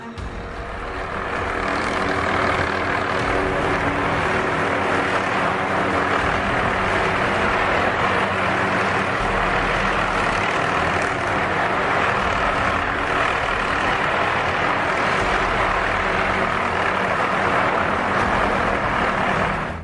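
Helicopter during a mountain rescue of a man stranded on a steep hillside; a steady, loud, continuous engine and rotor drone runs throughout with no talking.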